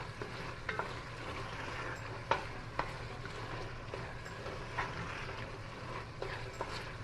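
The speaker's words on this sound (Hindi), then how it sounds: "1 टेबलस्पून भरकर मैंने डाला है अदरक लहसुन का और इसे भी साथ चला देते हैं।" Minced meat frying with ginger garlic paste for keema aloo, a faint steady sizzle under a low hum with intermittent light scrapes and clicks of a stirring spoon, no speech.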